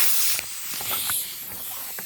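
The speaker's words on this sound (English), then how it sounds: "with my leaky air hose" A leaky air hose hisses continuously and loudly at close range, a broad steady rush of escaping air with a few faint mechanical ticks, no voices.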